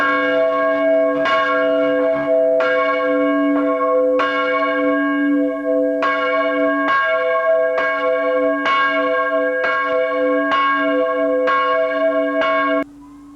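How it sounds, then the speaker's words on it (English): A restored church bell is rung up by the wheel, striking again and again in a slow, fairly even rhythm, each loud ringing note left to hum and overlap the next, heard alone with no talk. "And ring it up again."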